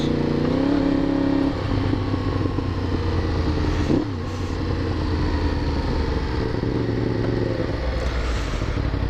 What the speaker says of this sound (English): I don't mind the popping and the backfiring